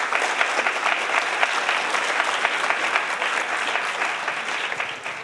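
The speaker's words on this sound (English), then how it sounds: "So let's give them a big round of applause" Steady, dense clapping from a community meeting crowd, sustained for several seconds at an even level, with no voices on top.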